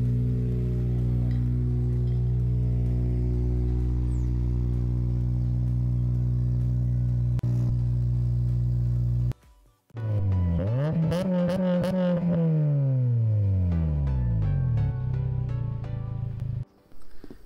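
A 2007 Honda Civic Si idles steadily from behind the car, then revs up and falls back with a rising and falling engine note, close and loud.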